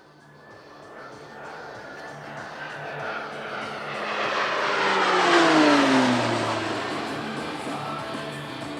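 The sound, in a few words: Pilatus PC-9M aircraft flying airshow display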